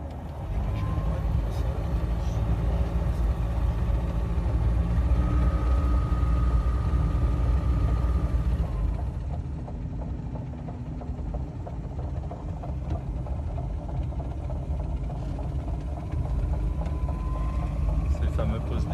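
A Pipistrel Velis Electro electric airplane takes off from runway 28, its motor giving a steady electric whine and airy roar that holds strongly, then eases slightly midway as it climbs away.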